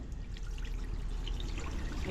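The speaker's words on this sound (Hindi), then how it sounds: "एक बार और भरनी पड़ेगी बाल्टी, एक बार ये पानी निकाल देते हैं" Water poured out of a bucket after washing farm-grown vegetables splashes and trickles onto the ground in a continuous, fairly quiet gush outdoors, with no one speaking.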